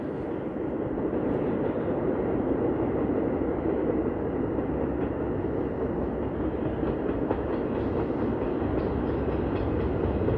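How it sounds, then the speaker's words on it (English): A Staten Island Railway train pulls into a station, a loud continuous rumble with faint rhythmic wheel clatter that holds steady throughout, no one speaking. "Yay, Staten Island Railway."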